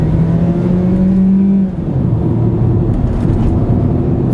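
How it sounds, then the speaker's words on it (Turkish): A 2012 Hyundai i20 hatchback with a 1.4 CVVT engine accelerating at full throttle, its steady loud engine drone rising in pitch, briefly dipping at a gear change, then climbing again. "Şimdi tekrar dip gaza çektim."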